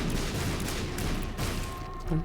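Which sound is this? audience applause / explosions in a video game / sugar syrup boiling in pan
explosions in a video game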